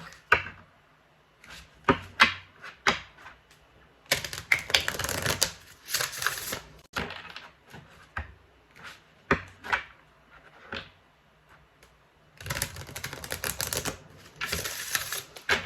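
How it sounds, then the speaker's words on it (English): Cards from a tarot deck are handled in short bursts of crisp rustling, shuffling and light tapping, separated by quiet gaps, close to the listener and with no voices. "I'm gonna pull a message from this deck."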